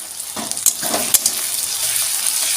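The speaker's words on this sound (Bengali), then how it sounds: "এবার আমি এর মধ্যে দিয়ে দেবো বেটে রাখা আদা রসুন পেস্টটা দিয়ে এবার আমি ভালোভাবে নেড়ে নেবো" Ginger garlic paste frying in hot oil for Bengali-style tarka dal: a loud, continuous sizzle close by, with a few sharp scraping stirs of a spoon against the pan in the first second, and no talk.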